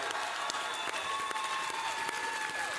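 Audience applause at a Kingdom Hearts panel at D23, a dense, steady wash of clapping from a large crowd, sustained throughout without talk.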